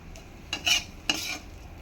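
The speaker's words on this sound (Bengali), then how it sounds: "এবার কিছুক্ষণ নাড়তে হবে।" Mashed rohu fish stirred with a metal spatula in a pan, two distinct scraping strokes against the metal over a quiet background, close and fairly soft.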